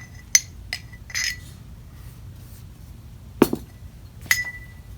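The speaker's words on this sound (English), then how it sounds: "I'm just stirring it with my paintbrush for a little bit" A paintbrush stirs a cyanotype chemical mixture in a container, giving a few sparse, sharp clinks against the vessel over a low background hum.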